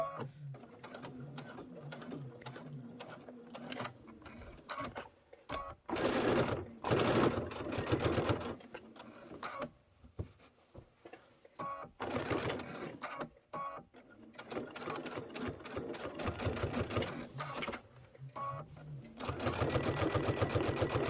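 A sewing machine back stitching fabric for a pocket pillow runs in bursts of rapid mechanical whirring, separated by quiet pauses, close and fairly loud, with no talk.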